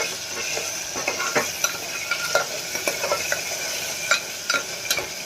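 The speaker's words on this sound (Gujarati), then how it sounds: "બટેટાને મિક્સ કરી લઈએ" Potatoes fry in oil with cumin and asafoetida inside a pressure cooker, a steady sizzle marked by frequent scraping and clicking stirring strokes close by, with no speech.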